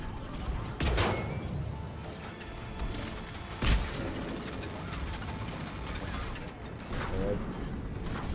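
Turret gunfire in the Mass Effect 3 video game sounds as sharp, distinct shots at intervals over a busy battle backdrop, with a voice speaking in places.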